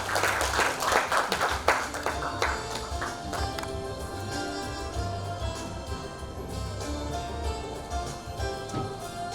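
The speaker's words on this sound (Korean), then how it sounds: "장관님을 큰 박수로 맞이해 주시기 바랍니다" An audience at a Jeju peace forum applauds to welcome a former unification minister to the stage, clapping strongest at first then thinning into scattered taps amid low room noise.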